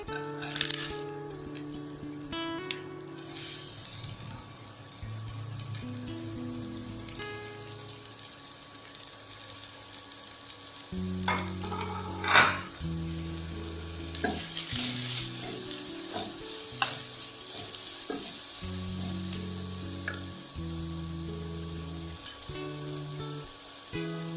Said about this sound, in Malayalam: വെളുത്തുള്ളി അരിഞ്ഞു വെച്ചിരിക്കുന്നതും ചുവന്നുള്ളി അരിഞ്ഞു വെച്ചിരിക്കുന്നതും ചേർത്ത് കൊടുക്കുക.